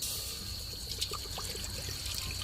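Water pours into a pot at an outdoor cooking spot where potatoes are to be boiled, a faint, steady trickle and splash under a constant background hiss, with no talk over it.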